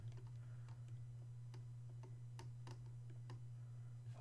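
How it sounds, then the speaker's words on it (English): A computer mouse clicks faintly and sparsely, scattered single ticks over a steady low electrical hum in a quiet room. "Hopefully the mouse isn't too loud."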